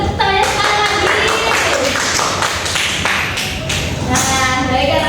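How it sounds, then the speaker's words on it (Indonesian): Children clapping in a classroom during a microteaching lesson, a dense, steady patter of hand claps with some taps and shuffling, fairly close and loud throughout. "Beri tepuk tangannya sekali lagi."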